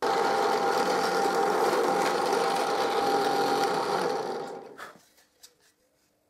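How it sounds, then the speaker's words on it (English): An electric drill bores dowel holes in wood for a display cabinet, a loud, steady whirring drone that runs for about four seconds, then winds down and stops, leaving a few small knocks. "and I drill the 8 holes"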